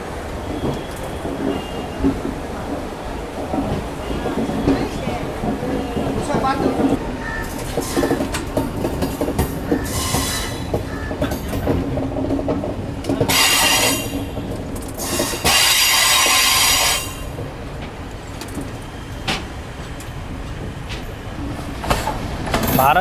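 A Garib Rath Express train pulls out of Kozhikode, with steady rolling rumble, clickety-clack of wheels and bursts of brighter squealing and rattling mid-way, heard from on board with no talk.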